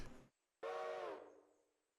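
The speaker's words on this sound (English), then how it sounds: "Oh, he's whistling that he's done." A train whistle in the Railroader video game gives a short toot, pauses, then sounds one longer blast that fades out, heard alone and fairly close.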